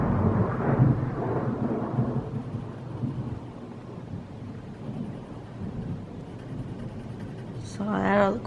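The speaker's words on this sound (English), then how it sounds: "I'm sure you can hear the thunder." Low rolling thunder from a nearby thunderstorm rumbles through the first seconds, then fades into a quieter background before a voice speaks briefly at the end.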